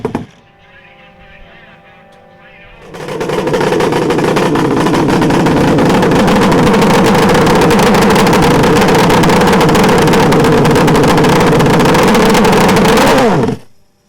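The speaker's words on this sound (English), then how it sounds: "You gotta love dry firing these engines." After a quiet low hum, 850 Mod hydroplane racing boat engines dry firing at Huntington burst into a loud, sustained roar that holds steady for about ten seconds, then cuts off abruptly.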